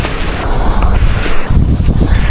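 Strong, steady wind roars and buffets the microphone on Mount Talinis, a dense low rumble with gusty surges throughout.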